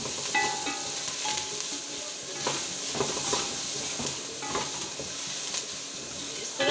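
Spoon scraping and stirring ground cumin through sizzling samosa filling in a hot pan, a steady frying hiss with repeated scrapes against the metal, close and loud.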